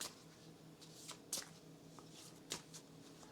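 Cards from the board game Kingdom Legacy being shuffled by hand in short riffling bursts, with crisp flicks standing out near the middle and toward the end, close and fairly quiet.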